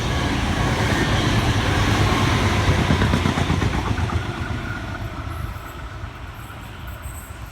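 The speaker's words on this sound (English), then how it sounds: "On our right we have the Explorer returning from Canberra, bound for Sydney, about to pass us on the far track" The Explorer passenger train, bound for Sydney from Canberra, rolls past on the far track near Bexley North, a loud, steady rumble of wheels and carriages that slowly fades as it moves away.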